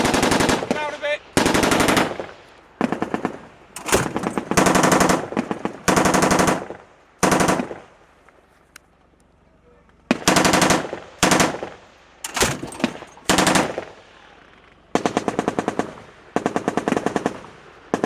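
Machine gun fire on a military firing range with the Grenadier Guards, loud close bursts of rapid automatic shots repeating with short pauses between them.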